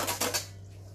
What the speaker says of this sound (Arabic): غادي نرجعو الكاسرونه ديالي ونبقى نحرك